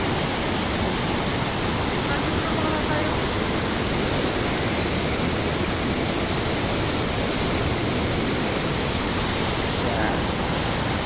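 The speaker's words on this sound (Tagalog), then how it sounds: "Yan, yan po ang Estrella Falls, Nara." Estrella Falls, a waterfall in Palawan, roars as a dense, constant wash of falling water, loud and close, with no break.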